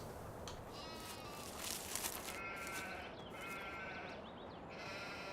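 Sheep in the video game Farming Simulator 2017 bleat several times, faint wavering calls over a steady background hiss, with no talking.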